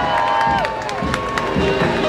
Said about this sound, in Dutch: Dames en heren, een warm applaus voor Jetty Paletti!